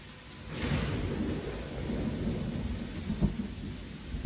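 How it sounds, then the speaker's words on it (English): Rain and thunder in the video game Pathfinder: Kingmaker, a deep rolling rumble of thunder swelling under a steady patter of rainfall, with a few sharper crackles near the end and no speech. "Everyone's walking slow because of the rain."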